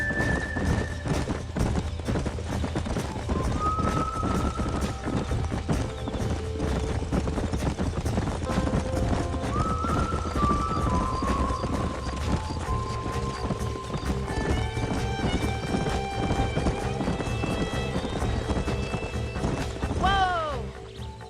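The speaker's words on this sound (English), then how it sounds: "These are fine horses." Horses gallop in Red Dead Redemption, a rapid, continuous clip-clop of hooves on open ground, with a brief whinny and rising musical tones near the end.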